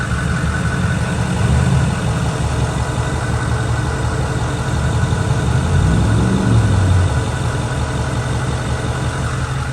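A Ford F550 truck engine, not yet warmed up, idles close by with a steady, loud low rumble and even vibration throughout, alone with no speech.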